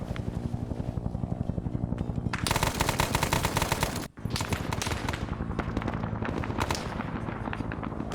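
Heavy gunfire fills a war video game battle, with rapid machine-gun bursts and overlapping shots rattling densely throughout, one brief break midway, and a helicopter-like drone underneath.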